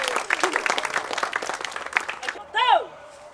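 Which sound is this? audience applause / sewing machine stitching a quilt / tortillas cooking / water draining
audience applause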